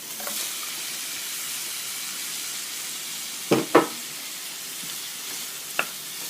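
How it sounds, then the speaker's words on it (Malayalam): Sliced onions go into a pan of frying prawn masala for a Kerala prawn roast: a steady low sizzle and hiss, with a few sharp scraping knocks from stirring near the middle and end, and no voices. "ഇനി നമ്മൾ എടുത്തു വച്ചിരുന്ന സവാള ഇതിലേക്ക് ഇട്ട് കൊടുക്കാം."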